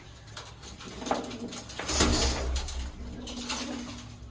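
Pigeons, including a baby pigeon being fed, coo softly in low, throaty murmurs, with faint rustling and a brief knock partway through.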